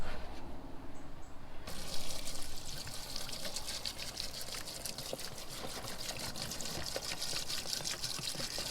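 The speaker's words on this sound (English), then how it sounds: "We're going to pour the whole thing of vinegar" Vinegar poured from a full container over rusty BBQ grill grates in a soaking tub, a steady close-up gush of liquid running for several seconds with no one talking.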